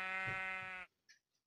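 A sheep in the video game Minecraft gives one short, buzzy, nasal bleat, followed by a couple of faint soft clicks.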